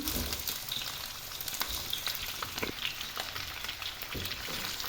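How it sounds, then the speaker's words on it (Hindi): Chicken feet frying together with onions in hot oil, a steady dense sizzle with occasional crackles and pops throughout, close and continuous with no voices. "तो इनको हम साथ ही इसके फ्राई कर लेंगे"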